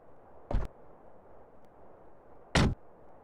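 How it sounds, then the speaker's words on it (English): Car door in the Grand Mobile role-play mobile game, two short loud thuds about two seconds apart over a quiet background hiss. "Then tap the button to open the vehicle."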